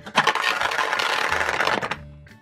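A Beyblade spinning top is launched and whirs loudly with a buzzing, rattling spin for about two seconds, then cuts off abruptly.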